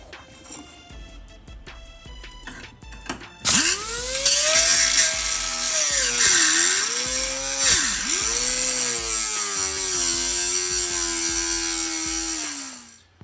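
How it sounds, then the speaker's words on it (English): A power grinder cuts into metal under a Chevy Camaro, a loud high whine that spins up abruptly and wavers in pitch as it bites, dips and recovers, then winds down, with no talk over it. "We're gonna grind that down"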